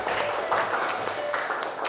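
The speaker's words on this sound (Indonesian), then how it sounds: "Tepuk tangan buat kita semua." A classroom group applauds together in a steady, dense clatter of clapping that holds for a couple of seconds, fairly loud and close, with a few voices mixed in underneath.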